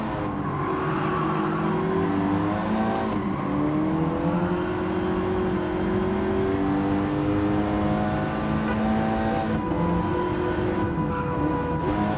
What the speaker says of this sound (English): You can hear my car labouring on exit.